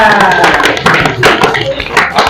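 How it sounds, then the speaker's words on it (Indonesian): Short, close clapping from a class of pupils in a lesson, a few uneven rounds of hand claps over two seconds, loud and near with some voices mixed in. "Ya, tepuk tangan semuanya."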